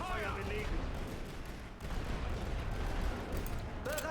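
Artillery fire booms in the World War I strategy game The Great War: Western Front, a dense, continuous rumble of blasts and shell bursts with a brief dip partway through.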